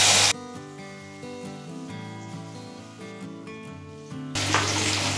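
Masala-coated raw banana slices hit hot oil in a kadai for a Tamil vazhakkai varuval, giving a loud, steady sizzle and frying hiss with a few shifts as pieces settle, heard alone.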